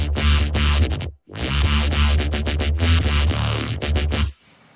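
A synth oscillator set to drive 1 in band minus plus mode plays a loud, punchy bassline of repeated rhythmic stabs with a brief gap near the start, bright and mid-heavy, no voices.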